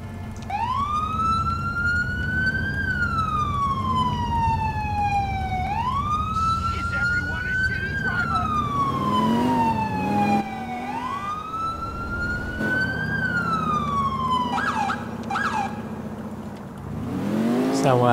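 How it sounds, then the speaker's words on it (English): A wailing police car siren in the LCPDFR game, playing as Ohio State Highway Patrol, sweeps up and down in long, loud cycles, continuous and close throughout. "That's why I take the siren off for right now."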